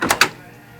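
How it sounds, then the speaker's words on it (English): The door of a 1955 Buick Special Riviera two-door hardtop is opened with a quick pair of metallic clicks as the latch releases, then a short clunk as it swings open. The sounds are close and fade out fast. "Let's open the door up on it here and take a look at the interior."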